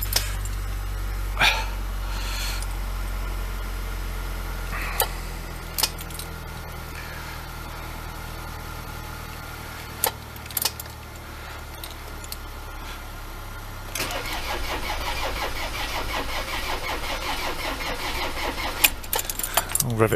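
A Ford Transit MK7 2.4 RWD van with a knocking engine fault, cranking with a low steady rumble, clicks and knocks scattered throughout, then louder, rougher engine noise near the end.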